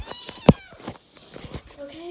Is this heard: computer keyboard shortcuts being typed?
no